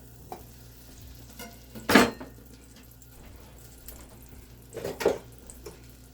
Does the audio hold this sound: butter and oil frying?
yes